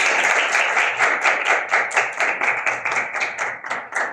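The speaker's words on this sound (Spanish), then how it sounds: "Un aplauso." Audience applause for a poet at a literature event, a short run of distinct, rhythmic claps from a small group, close and fairly loud.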